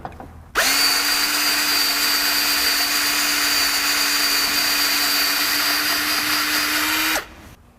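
A power drill with a 1/4 inch bit bores out a stripped thread hole, whining loud and steady at close range for about seven seconds before spinning down.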